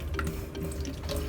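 Water left in a toilet tank pours out once the nut is removed during a flapper and supply line replacement, a continuous close splashing stream like a running faucet. No voices.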